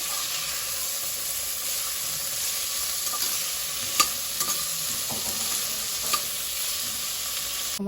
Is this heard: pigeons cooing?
no